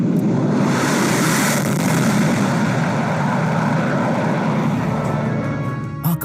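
A C-17 transport and two Sukhoi-30 jets pass overhead at the 75th Republic Day parade on Kartavya Path, heard as a loud, sustained roar that swells and slowly eases away.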